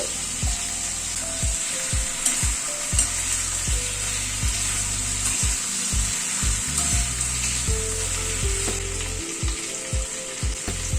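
Ginger paste fries and sizzles in a pan of vegetables (papaya and carrot) on medium gas flame for a chicken curry, with a steady hiss under repeated sharp knocks and scrapes of a spatula stirring.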